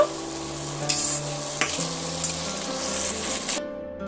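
Potatoes with ginger-garlic paste sautéing in oil in a pan for aloo dopeyaza, with a loud steady sizzle and repeated stirring scrapes that cut off abruptly near the end.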